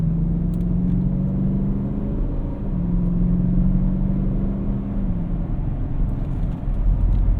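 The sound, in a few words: 2014 Porsche Cayenne GTS engine and exhaust while driving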